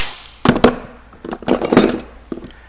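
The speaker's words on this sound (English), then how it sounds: "I'm going to grab a 17 socket and a 17 wrench" Metal clinks and clatters of a 17 mm socket and 17 mm wrench being picked up and handled while installing a rear sway bar on a Spec Miata, several sharp close taps in short bursts with no talk.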